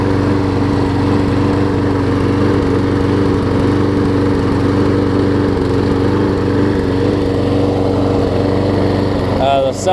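A Troy-Bilt 7hp lawn mower engine runs steadily and loudly throughout, a constant close-up drone with a fast regular putter and a brief shift in tone near the end.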